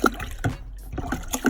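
Water pours into a home-brewing bucket holding sanitizer and froths up, giving a short burst of splashy, bubbling liquid noise with brief gurgles. The sound is close and fairly loud.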